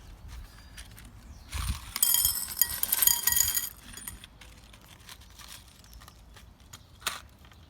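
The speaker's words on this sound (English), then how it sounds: "let me find some washers." Metal washers clinking and jingling as a hand rummages through them, a bright cluster of rattling chinks lasting about two seconds, followed by scattered faint clicks and shuffles.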